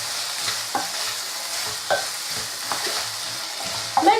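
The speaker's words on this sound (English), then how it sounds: "I'm just going to give that a stir" Minced meat keema sizzles steadily in a pan while a spoon stirs it, giving several scraping strokes, with a louder scrape near the end; no one speaks.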